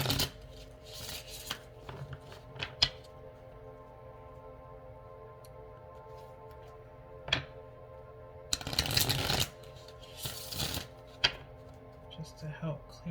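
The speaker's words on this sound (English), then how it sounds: "I'm gonna shuffle these just." Tarot cards being shuffled in a few quick riffling bursts, with quieter handling sounds and soft clicks between them.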